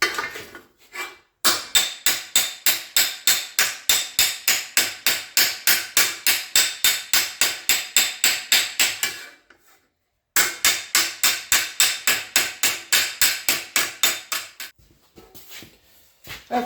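A hammer strikes sheet metal held over a dolly while shaping a custom car dash insert. Two long runs of rapid, even, ringing metallic blows are close and loud, separated by a short pause.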